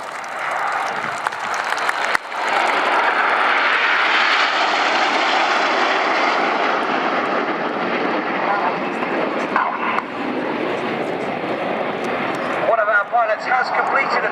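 An Avro Lancaster bomber's four piston engines drone loudly as it flies past at an air show, a broad sustained roar that swells and slowly fades, with crowd noise and an announcer's commentary over it.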